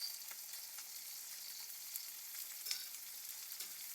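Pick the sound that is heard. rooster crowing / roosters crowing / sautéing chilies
sautéing chilies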